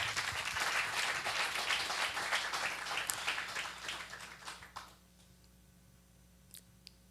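A congregation claps loudly for the Lord during a church interview about forgiving an abusive father, a dense burst of applause that fades out after about five seconds, leaving quiet room tone with a couple of faint clicks.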